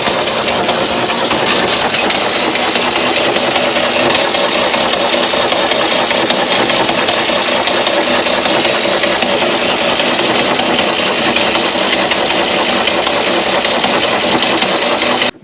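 An old engine left abandoned in a barn for 20 years runs continuously, a dense, steady mechanical drone with rattling texture holding at an even level from start to finish.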